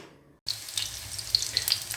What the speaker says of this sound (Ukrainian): Котлети вже смажу.